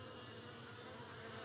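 Honey bees hum faintly at beehives, a soft, steady buzz that stays even throughout a short stretch with no voices.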